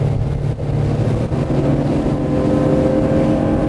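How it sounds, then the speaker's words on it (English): Dromeas 28CC motorboat at full throttle, a loud continuous engine roar and rushing water drone, steady and close, with a slight rise through the clip. "let's put the throttle down and see what kind of speed we get"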